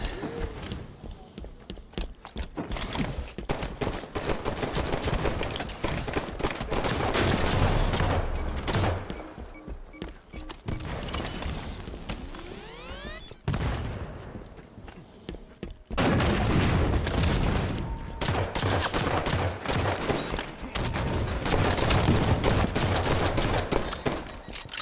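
Dense, continuous gunfire and explosions fill a video game battle, with rapid shots and booms layered throughout, loud and close, and players talking over the action.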